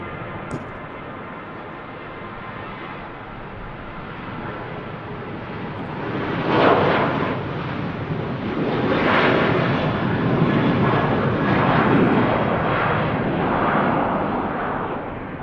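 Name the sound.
Ryanair Boeing 737-800 taking off at Manchester Airport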